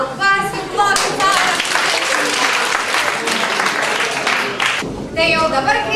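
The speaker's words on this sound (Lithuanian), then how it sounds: "Pasiplokite." An audience at a school student-council event claps in a loud, sustained burst of applause that fades after about five seconds, with voices heard before and after.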